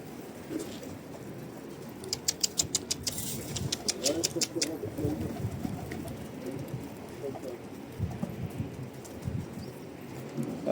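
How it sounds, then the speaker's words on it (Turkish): Pigeons land with a burst of rapid wing flapping and coo softly nearby, while people talk over the birds throughout. "iniyor kuşlar ya şimdi"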